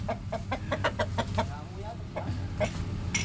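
Shamo gamecock chicken clucking in a quick run of sharp, repeated clucks, close and fairly loud, with a pause and a few more clucks near the end.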